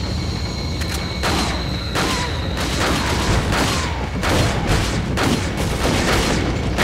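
Gunfire in the video game Resident Evil 4, with a rapid series of loud, booming shots in close, uneven bursts throughout.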